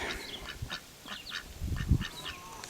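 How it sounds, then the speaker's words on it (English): Ducks quack in a short, repeated series of nasal calls on an outdoor pond among garden plantings, a few bursts spaced unevenly at moderate distance, with a louder rustle near the end. "Oh, there's Howard and Miss Duck"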